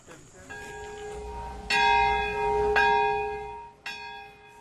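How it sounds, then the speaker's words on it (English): A bell tolls at a solemn ceremony in Nagasaki Peace Park, Japan, with four clear, ringing strikes, each leaving a long sustained hum that decays before the next, heard alone and fairly close. "A bell rings out in Japan's Nagasaki Peace Park today at a solemn ceremony"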